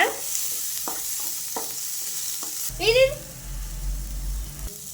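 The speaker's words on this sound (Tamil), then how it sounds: "வெங்காயம் கொஞ்சம் கலர் மாறினோடனே நம்ம கட் பண்ணி வச்சிருந்த பச்சை மிளகா அப்புறம் கருவேப்பிலை ரெண்டுத்தையும் போட்டுடலாம்." Onion, green chili and curry leaves fry and crackle in hot oil for pori upma, with a spoon stirring and scraping the pan up close while a person talks over the sizzle.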